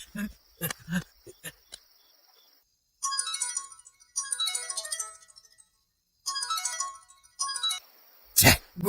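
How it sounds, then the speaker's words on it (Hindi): A phone ringtone in a dubbed Hindi film scene plays bursts of bright, chirping, melodic tones in repeated phrases with short gaps, loud and close, after a few spoken words. "गुरुजी फोन क्यों नहीं उठा रहे?"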